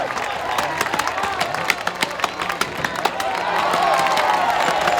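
A stadium crowd cheers and claps for axemen racing in the 2017 Jim Marshall Memorial NSW inter-association woodchopping relay, a dense, continuous roar dotted with sharp claps and knocks that swells louder toward the end.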